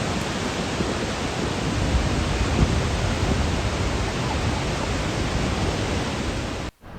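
Roar of Victoria Falls, a massive waterfall, heard from across the gorge as a steady, loud broadband rush that holds constant throughout, then drops away abruptly right at the end.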